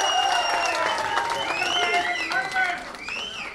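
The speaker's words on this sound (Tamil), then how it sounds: "பலமான கரகோஷம் மக்கள் நாயகருக்கு" A crowd at a film event for Saamaniyan claps for actor Ramarajan, the busy applause mixed with prominent voices and high tonal sounds.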